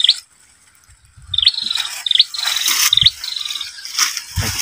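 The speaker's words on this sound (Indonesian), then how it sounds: "Di rumah ada burung toto atau tukur yang lagi mengangkut sarang, bos." Small bird chirping near a house where a dove gathers nest material, a series of short high tweets in bursts with brief pauses, moderately close, with scattered rustling and knocks underneath.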